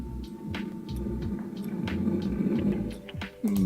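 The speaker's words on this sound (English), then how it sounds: "so we've got a nice monster noise here" Monster noise effect for a game, a rumbling low growl with wet squelchy texture that runs steadily for several seconds, swelling toward the end with a sudden louder burst, heard alone without talk.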